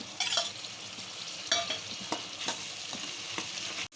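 Masala and chopped green chillies fry in hot oil in a pan for chicken pulusu, a steady sizzle broken by a few sharp scrapes and stirs.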